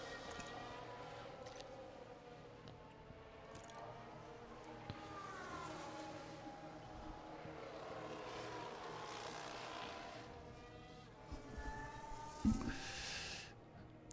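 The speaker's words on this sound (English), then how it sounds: "Sounds like cars are going out." Engine noise from F1 racing cars rolling out of the pits in the F1 Manager 2023 video game, a steady layered drone with rising and falling engine tones and a sharper burst near the end, with no talk.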